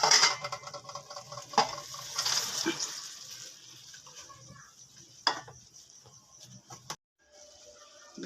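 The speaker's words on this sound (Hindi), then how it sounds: "अब इनको मैं आधे चावलों को तसले में निकाल लूँगी।" Cooked biryani rice scooped from a pot into a metal tray, with scraping, scooping clatter and a few sharp metallic knocks against the vessel at moderate loudness, broken by a brief near-silence before quieter handling resumes.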